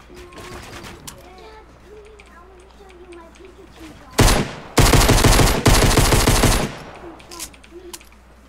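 Rapid automatic gunfire from the Fortnite video game in a laser-tag style match, with several loud sustained bursts in the middle, close and dominant, while players talk excitedly before and after.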